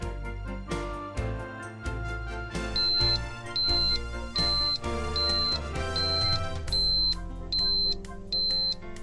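Oldham MX 43 gas detection controller sounding its alarm in simulation mode, a string of short, evenly spaced high beeps repeating over a steady layered electronic tone, with no voices.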